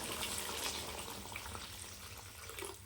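Water is poured into a pot of cooking mutton curry as a soft, faint trickle and splash running steadily under quiet kitchen background noise.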